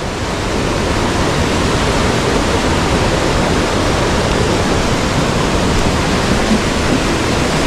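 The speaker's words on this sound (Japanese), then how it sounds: "滝が出てきたし。" A waterfall on a mountain stream roars steadily, a loud, dense, unbroken rushing wash close by with no other sounds.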